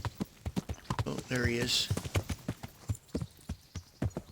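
Horse hooves clip-clop at a steady walking pace throughout a medieval Kingdom Come: Deliverance game scene, with a brief whinny midway and someone speaking over the rhythm.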